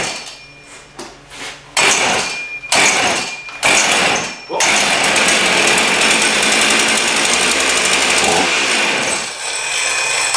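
Husqvarna 55 chainsaw engine with a noisy clutch: loud choppy bursts at first, then a steady, close, high-revving drone with a rattling clutch texture.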